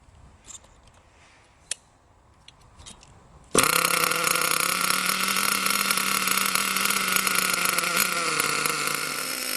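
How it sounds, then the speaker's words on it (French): A small nitro-fuelled model car engine being run in bursts into a loud, buzzing idle after a few seconds of faint clicks and handling noise. It then holds a steady, high-pitched drone close by. "Remplissez le réservoir et démarrez le moteur."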